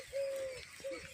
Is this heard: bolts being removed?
no